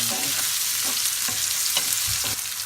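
Chopped onions with dried red chillies sizzle steadily in a pan for crab curry, a continuous close frying hiss broken by a few soft stirring scrapes.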